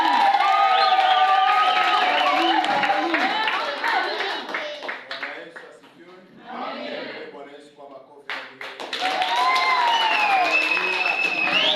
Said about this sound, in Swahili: Pigia Yesu kelele na shangwe.